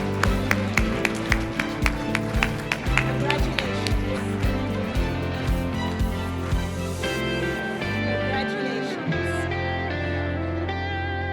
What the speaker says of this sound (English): Let's give all our winners a big round of applause.